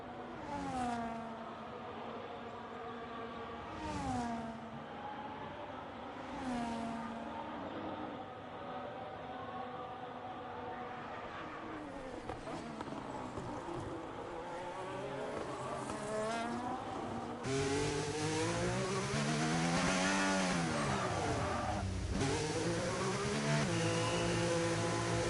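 F1 video game race cars drone past in rising and falling engine tones during a safety car period, several cars overlapping and growing louder toward the end.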